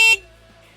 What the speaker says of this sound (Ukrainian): Клаксон